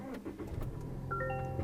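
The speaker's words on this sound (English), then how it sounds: "put my foot on the brake, and it should start up now" A Toyota Tacoma pickup cranks over and catches under a remote start from the key fob, rising into a steady nearby idle with a faint whine in the last half second; nobody speaks.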